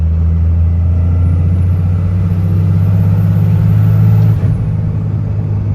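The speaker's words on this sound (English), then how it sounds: "That was 5th gear right there, just did a little pull." A Cummins diesel truck engine with an S&B cold air intake drones loud and steady under a pull in fifth gear, a deep hum with a faint high turbo whine riding above it, then eases slightly near the end.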